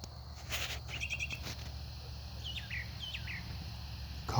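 A songbird calls outdoors at sunset, with a few short chirps and whistled notes at middle distance, fairly faint over a steady background hum of insects and ambient noise.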